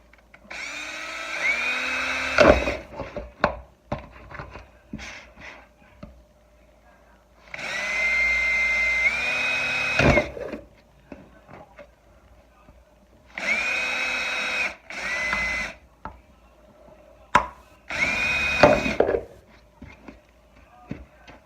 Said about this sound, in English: Now I got my holes all nicely drilled.